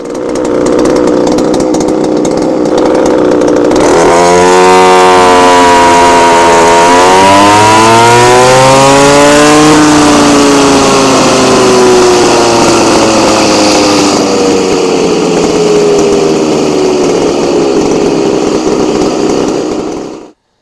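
A Poulan 260 42cc chainsaw engine with a muffler mod screams at full throttle on a dyno, pitch rising and holding high for a long, loud, continuous run before cutting off abruptly at the end.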